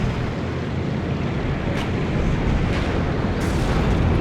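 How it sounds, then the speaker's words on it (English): Sustained rumbling roar of anti-air fire hitting a Mi-24 helicopter in the Warno war game, a dense, loud, continuous wash that swells slightly toward the end. "Look at that Mi-24 getting lit up by Russian anti-air"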